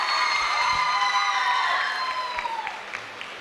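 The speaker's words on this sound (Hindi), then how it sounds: "तालियां बजाओ जोरदार" An audience claps and cheers loudly at a live dance competition grand finale, a dense steady wash of applause and shouts that gradually thins and fades toward the end.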